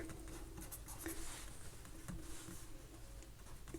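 A marker or chalk scratches across a classroom board in short strokes, quiet and close, with faint room background and no talk.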